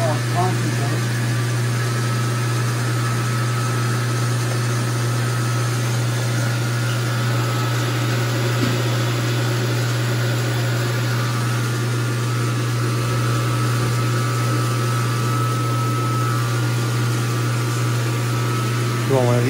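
An engine runs a reverse osmosis machine used for maple syrup, giving a steady, loud droning hum with a strong low tone throughout, while people talk over it.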